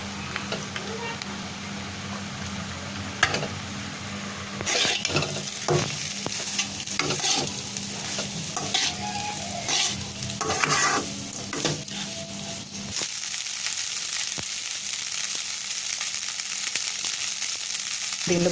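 Rice is stir-fried for fast-food-style egg fried rice in a hot pan, with loud continuous sizzling, repeated scraping and clanking of the spatula against the pan, and a steady hiss throughout.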